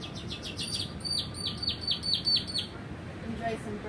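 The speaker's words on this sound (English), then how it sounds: "Enjoy some bird sounds." Birds chirp outdoors in Ecuador, a rapid series of bright repeated calls over the first few seconds before they thin out, set against a steady low background hum.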